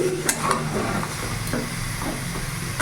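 A ladle scrapes and stirs potato and pea curry in a pan, with a steady soft sizzle and a few clinks against the metal, and no voices.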